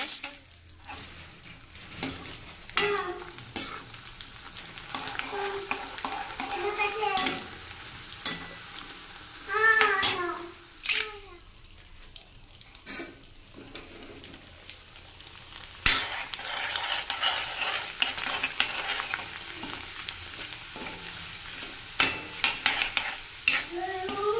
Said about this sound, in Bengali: এই যে তেল গরম হয়ে এসছে, আর এখানে নিয়েছি এই যে চিপস, এগুলো এখন ভাজি করব।